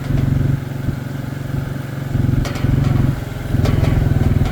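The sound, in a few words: four-wheeler ATV engine pushing a two-wheeled implement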